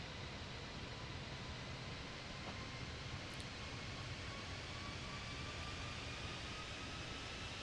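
Airliner jet engines of a Fenix A320 in Microsoft Flight Simulator 2024 spool up on final approach with gear down, a steady, loud broadband roar with a faint rising whine, continuous throughout with no talking.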